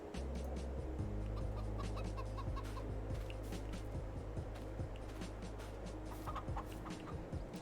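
Chickens clucking in Farming Simulator 22, faint scattered clucks and short calls over a steady low engine-like hum from the farm game.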